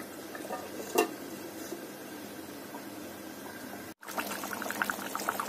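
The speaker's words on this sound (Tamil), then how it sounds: "நம்ம மீன் குழம்பு நல்லா கொதிச்சுட்டு இருக்கு" A pot of sardine fish curry simmers and bubbles with a soft, steady burbling, with a faint clink near the start.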